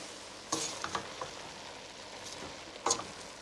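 Kitchari cooking in a pot is stirred with a few quick scrapes and clinks of a spoon, soft and close, over a faint steady simmering hiss.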